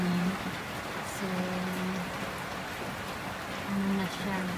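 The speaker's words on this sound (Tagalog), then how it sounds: "Malakas na yung ulan." Heavy rain falls in Angeles City, Philippines during a windy typhoon, a dense steady hiss of downpour with a voice talking intermittently underneath.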